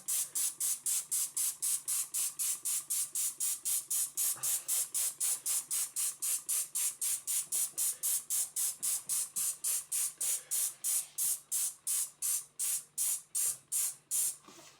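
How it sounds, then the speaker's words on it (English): Spray bottle misting water over freshly sown tomato seeds, a long run of rapid, evenly spaced trigger squirts, close and crisp, slowing and weakening slightly toward the end. "And then I'm going to bring over my spray bottle and just give it a nice spray."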